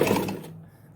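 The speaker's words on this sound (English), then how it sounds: "let's continue with our sewing" A sewing machine runs briefly while stitching a bias strip around the neckline of a circle top, a steady mechanical whir that carries loudly through the first half second and then trails off into a low hum.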